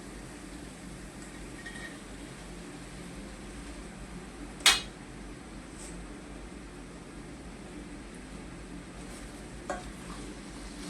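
Sprouted mung beans tipped into masala and stirred in a pan, with a quiet steady sizzle, soft spoon scraping and one sharp clink midway.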